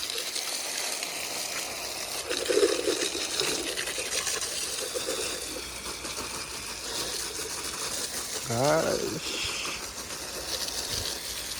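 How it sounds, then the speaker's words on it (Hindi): Running water gushes steadily from a tap, filling up before a bike is washed, a continuous wash of moderate level with faint surrounding noise and a brief whistling tone in the middle. "हम लोग यहाँ से पानी ऑन करेंगे अभी।"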